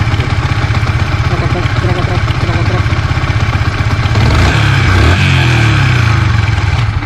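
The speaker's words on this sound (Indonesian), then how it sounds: "Bagian blok aman, terus bagian sentrik agak sedikit berisik" A Yamaha Vixion motorcycle engine with a slightly noisy camshaft idles steadily with a busy mechanical ticking and clatter, briefly blipping higher midway before settling back into its loud, even idle.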